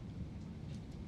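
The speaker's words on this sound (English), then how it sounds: "there's a storm raging outside my window" A thunderstorm rages outside a window in Austin, Texas, heard from indoors as a steady, low, dense rumble with a soft rain-like wash on top and no voices.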